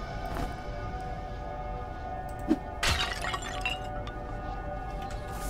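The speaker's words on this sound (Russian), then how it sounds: "Ящики, я думаю, можно... Их можно разбить?" Wooden crates smashed apart in the dungeon-crawler game Legend of Grimrock II, a sharp crash with brittle splintering debris and a smaller clatter just before, heard over a steady droning ambience.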